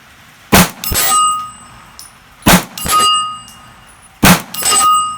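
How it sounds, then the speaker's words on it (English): Three sharp metallic rings from 9mm bullets fired from a PSA AKV striking a 10-inch steel gong, each a bright clang with a lingering ring, spaced about two seconds apart. "Back on the big steel gong, 10 inches."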